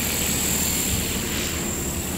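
A new Walkera V400D02 six-channel flybarless RC helicopter hovers nearby, its rotors producing a steady, dense whirring drone with a constant high whine and no break.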